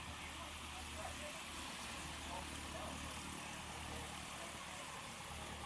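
Propeller engine of a 1956 Cessna Super 172 tail dragger at a STOL competition, a steady, fairly faint droning hum held evenly from start to finish.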